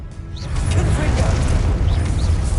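A Confringo spell in the Hogwarts Legacy video game bursts with a loud, crashing boom that swells after a brief quiet start and rumbles on heavily, close and sustained, with a voice partly audible.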